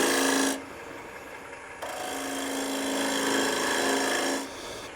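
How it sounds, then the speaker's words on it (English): A bowl gouge cuts a recess into a wooden bowl blank turning on a lathe, giving a steady, close rasping scrape in two sustained passes separated by a short lighter stretch. "I'm going to take my trusty bowl gouge, but this time instead of cutting out"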